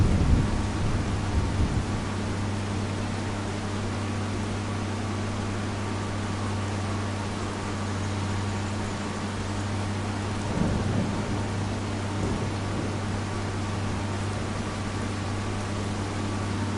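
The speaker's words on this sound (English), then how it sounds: "I hear a lot of in-game thunder, but I don't see clouds." Thunder rolls in Farming Simulator 25 on PS5 as a long, low continuous rumble over a steady rain-like hiss. It swells briefly near the end, and no one speaks.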